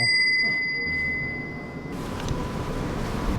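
An old house servant call bell rings clearly at the start, its bright tone sustaining and slowly fading over a couple of seconds before giving way to quiet room noise.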